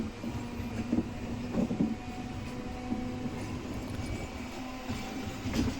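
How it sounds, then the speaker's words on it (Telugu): A MEMU passenger train runs at speed along railway tracks in India, a steady rumbling roll with faint rhythmic wheel clatter and a thin metallic squeal, heard at a moderate distance. "ఇంకా కేక దుమ్ము దులిపేస్తున్నాడుగా మెమో ట్రైన్"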